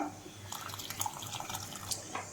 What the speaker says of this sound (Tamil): இந்த வேக வச்சுருக்க தண்ணியையும் இதில் நம்ம சேர்த்துடலாம்